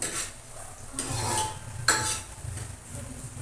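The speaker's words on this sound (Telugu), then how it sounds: "ఆనియన్స్ వేసాను కలుపుతున్నాను" Onions being stirred in oil in a pan for fish curry, with a few scraping and clinking strokes of the spoon against the pan over a faint background sizzle, close and moderately loud.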